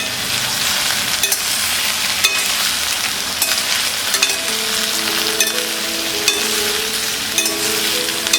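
Okra and onion frying together in a pan over medium flame, a loud continuous sizzle with occasional spatula scrapes and a few soft clinks, heard close with no voices.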